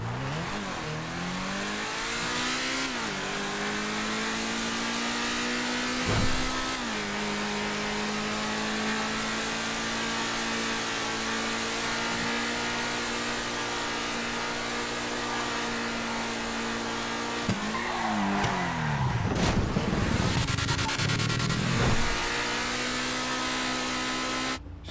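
The Infernus sports car in a video game roars through a test drive. A loud, steady engine drone climbs and falls with repeated revs and gear changes, and tire noise breaks in briefly near the end.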